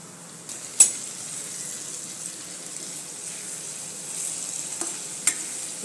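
Sesbania pods are stirred as they fry in a pan: a soft, steady sizzle runs throughout, broken by a few sharp clinks of the spoon against the pan and occasional scraping, close by with no talking.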